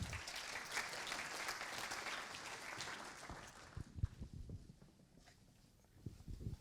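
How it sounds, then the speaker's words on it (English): An audience applauds a company team taking the stage at a corporate event, the clapping fairly loud and steady for a few seconds, then thinning out into scattered claps and footsteps. "Give them a big round of applause."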